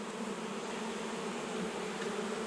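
Honeybees drone in a steady, dense buzz around an open hive during an early-spring inspection in March, a close, unbroken hum with no voices.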